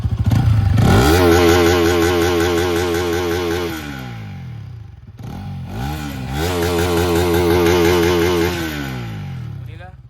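A Bajaj Pulsar NS200 motorcycle with a loud, raspy modified exhaust revs hard twice, holding each high rev before dropping back, very close and dominating.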